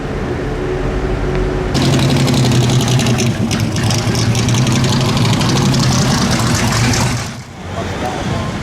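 Historic Cooper race car at the Monaco historic grand prix: a loud, rough engine drone with a steady low hum that stays close, then drops away near the end; an announcer talks over it.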